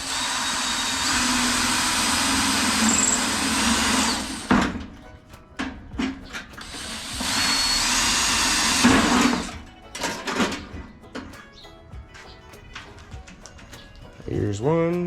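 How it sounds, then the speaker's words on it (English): A power drill bores holes in a dry washer during a modification, whining loudly and steadily in two long runs, then stopping between with clanks, handling knocks and someone talking. "We're drilling the holes"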